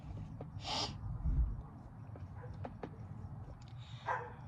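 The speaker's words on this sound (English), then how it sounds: "someone's dog is barking." A dog barks a few times in the distance, faint short yaps scattered over a low background rumble.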